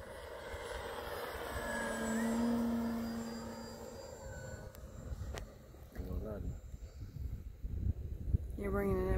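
An RC T-28 model airplane comes in to land at a radio-control flying field in Indiana. Its engine drones at a distance, rising and fading as it passes, while people nearby talk over it.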